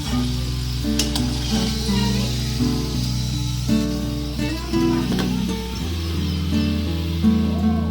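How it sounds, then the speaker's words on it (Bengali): Potato snacks deep-fry in a wok of oil with a loud, continuous bubbling sizzle, a few utensil clinks, and a low steady hum from a nearby appliance that cuts out near the end. "আমি এখানে দুটো দুটো দিয়ে ভেজে নেব"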